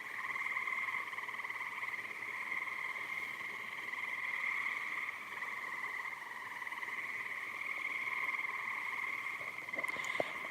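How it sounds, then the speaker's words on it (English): A dense, continuous chorus of frogs trills and peeps from a small pond fed by beaver dam runoff at night, steady and unbroken throughout. "the little pond is from the runoff from the beaver dam. It's on this side, which is full of frogs"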